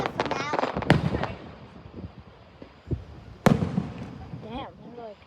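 Fireworks burst during a show at Ocean Isle Beach, with several sharp nearby bangs, two of them loud and standing out, over a crackling background and a crowd murmur, while people talk and exclaim close by.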